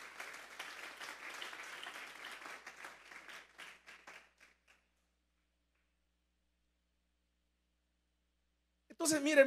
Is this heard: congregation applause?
yes